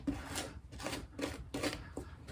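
Paint pressed and scraped over a lotus stencil: four rasping scrapes in a steady rhythm, each a short gritty rub with a soft tap at its start, close and fairly quiet, no voices.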